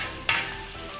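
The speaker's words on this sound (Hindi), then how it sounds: "अब मैं इसके अंदर डालूंगी मक्खन थोड़ा सा, ऊपर से।" A small knob of butter lands on hot tawa chicken in a pan, bursting into a loud sudden sizzle that then settles into a steady frying hiss.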